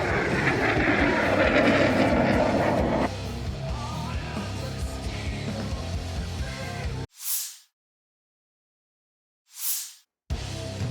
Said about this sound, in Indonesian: Беспилотник.